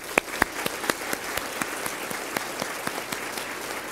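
A small audience at a Women of Distinction ceremony claps, with a few sharper hand claps standing out at first over a steady patter that fades slightly.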